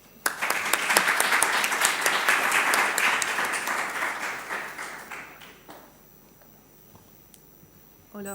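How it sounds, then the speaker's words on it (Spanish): Steady audience applause at a talk on Spain's parliamentary populist agenda, dense clapping building for about five seconds before dying away into a quiet room, with a brief voice at the very end. "un aplauso y gracias por estar, Belén"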